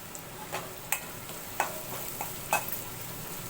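A spoon stirs ground peanut powder sautéing in oil in a pan, giving a faint, steady sizzle with a few sharp scrapes and taps against the pan, no talking.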